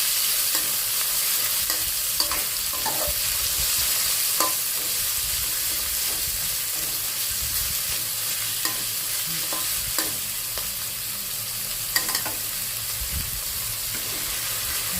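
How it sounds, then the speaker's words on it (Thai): Pork stir-fried in a hot pan for a stir-fried napa cabbage dish, a steady loud sizzle with scraping stirs and occasional spatula clinks throughout. "ใส่หมูลงไปค่ะ ผัดหมูก่อนนะคะ"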